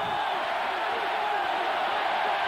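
A sellout crowd of 76,000 at a college football stadium, Colorado against Nebraska, roars as one steady, dense wash of distant cheering that never lets up or swells.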